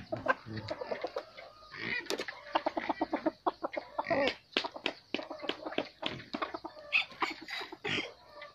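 A young decoy gamecock clucks and calls in quick irregular bursts close by, mixed with scratchy knocks and rustling movement throughout.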